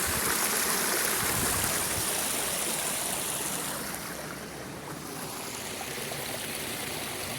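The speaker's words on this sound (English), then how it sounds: "It's not a bad little creek." Continuous rushing and babbling of a nearby small bush creek between Engadine and Menai, steady and fairly loud, easing slightly midway.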